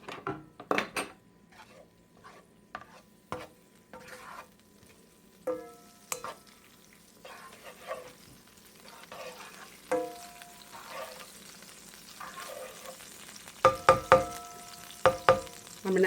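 Sizzling in a hot frying pan with stirring and clinking utensil sounds, a steady low fry under a series of sharp taps and scrapes, close and moderately loud, with no talk.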